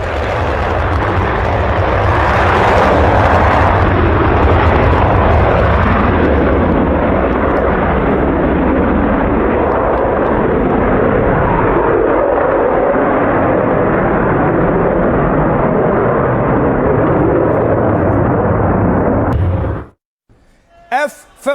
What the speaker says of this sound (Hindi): ये वही अमेरिकी F-15 विमान है जिसे ईरान ने मार गिराया।